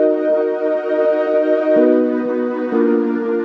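After a second equalizer in LMMS, the impostor synth plays a short phrase alone, a sustained buzzy tone stepping down in pitch twice with rich stacked harmonics.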